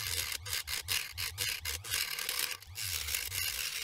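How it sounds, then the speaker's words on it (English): A hand saw cuts the corners off metal flat bars in steady back-and-forth strokes, about two per second, close and fairly loud, with no talking. "I sawed the corners off to speed things up"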